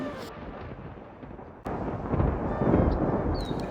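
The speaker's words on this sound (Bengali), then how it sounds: "তারপর শুরু হলো প্রবল ঝড় বৃষ্টি" A deep rumble of a storm swells in suddenly after a quiet start, a low roaring wash like heavy rain and thunder.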